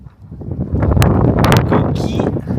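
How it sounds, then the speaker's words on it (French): Steady wind buffets a microphone on a shell beach, a broad rumbling roar that swells and holds loud throughout, with a person talking beneath it. "Il y a du vent."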